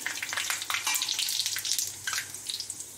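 Whole spices such as cinnamon, bay leaf, green cardamom, cloves, peppercorns and cumin sizzle in hot oil for a tadka, a steady crackling hiss with little spitting pops, close and alone.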